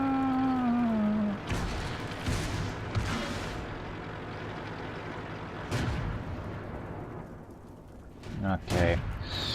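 Tank cannon shots in World of Tanks, with heavy booming blasts at irregular intervals over a rumbling battle background and a sliding engine-like whine at the start.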